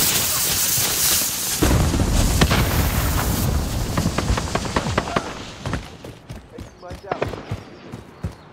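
In the Modern Warfare 2019 video game, a grenade goes off with a heavy booming blast that rumbles and fades, followed by scattered gunfire cracks and battle noise.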